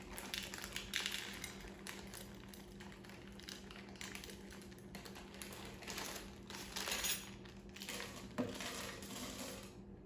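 Chocolate chips are folded into banana muffin batter in a bowl, giving soft irregular scrapes and light clinks of a utensil against the bowl, quiet and close, with a faint steady hum behind.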